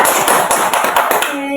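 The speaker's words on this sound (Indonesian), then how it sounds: "tepuk tangan dulu dong sekali lagi untuk kita" A group of students claps together at a group guidance session, a short burst of quick, overlapping hand claps close by that fades after about a second and a half.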